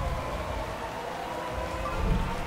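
Rain in the racing video game F1 2012 during qualifying in Abu Dhabi: a dense, continuous hiss of heavy rainfall, steady and fairly loud throughout, with a faint low rumble toward the end.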